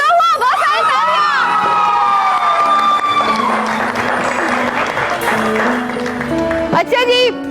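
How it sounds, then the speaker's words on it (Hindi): Loud studio audience applause on a Pakistani TV entertainment show, dense clapping across the whole clip with music stings and tones layered over it. "बहुत सारी तालियां"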